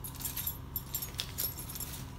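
A bunch of Allen hex keys for guitar setup jangles briefly nearby, bright metallic clinks over a low steady background hum.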